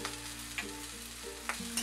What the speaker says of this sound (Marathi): थोड्या थोड्या वेळानं असं थोडंसं हलवून घ्यायचं.